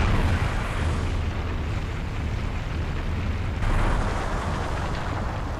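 A weapon fired into an Imulsion pool in Gears of War sets off a loud, continuous explosive roar that stays dense and rumbling throughout, swelling again partway through.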